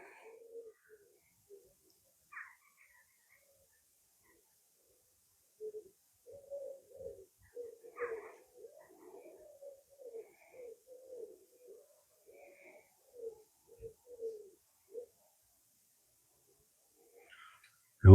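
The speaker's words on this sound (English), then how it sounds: "other than a few birds up in the trees, I'm not hearing anything else" Scattered bird calls and soft cooing from birds in trees, moderately near, with quiet gaps between bursts and no talking.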